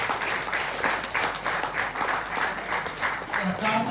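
An audience at a contest prize distribution claps loudly and steadily in an even rhythm, sustained applause filling the room for a few seconds.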